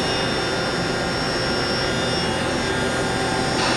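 A Haas VM3 CNC vertical machining center spindle runs at 7,500 RPM, giving a loud, steady high-pitched whine and airy roar, close up and continuous with no talk.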